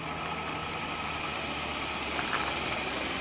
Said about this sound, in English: first plug in the rotor motor with the start cap connected,